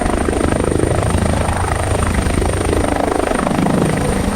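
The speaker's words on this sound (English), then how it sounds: "we've got this helicopter. It's flying through the sky." Steady, loud AI-generated helicopter noise with a rapid rotor thump and engine drone, continuous throughout, no voices.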